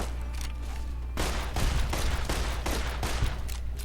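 Caravan shotgun fired repeatedly in Fallout New Vegas: loud, sharp blasts in a steady rhythm roughly every half second over a constant game-ambience hum, with no talking.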